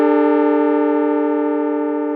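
A Moog Muse synthesizer patch sustains one loud, bright, harmonically dense tone that fades slowly, with no voices.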